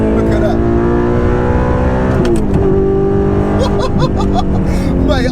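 A tuned Audi R8 V8 with a manual gearbox revs hard toward its 8,000 RPM redline, loud and close, with a gear change midway and the engine climbing again, while people talk over it.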